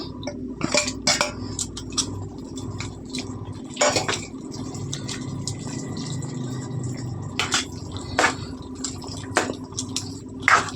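Metal spoon clinks and scrapes against a pan as fried dry fruits are stirred into bottle gourd halwa, with sharp intermittent taps and scraping strokes over a quiet background.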